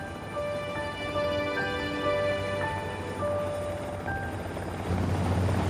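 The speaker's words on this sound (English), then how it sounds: "as the helicopter makes its way over the mountains" A helicopter flies over mountains, its rotor and engine a steady, close drone heard under sustained musical tones.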